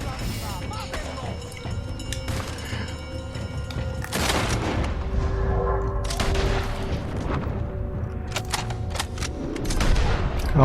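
Gunfight in Red Dead Redemption 2, with rapid bursts of gunshots and booming reports cracking repeatedly over a dense, rumbling game soundscape, loud and close, getting heavier in the second half.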